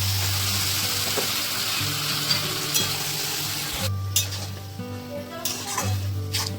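Chopped taro greens go into a pan of frying shrimp with spices and ginger paste, giving a close, continuous sizzle with stirring, scraping and occasional utensil clinks over a faint background hum.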